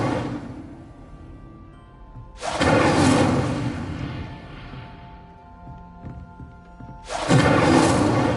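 Incendio fire spell cast in Hogwarts Legacy: two loud, roaring whooshes of flame about five seconds apart, each bursting suddenly and then fading into a lingering, humming tail.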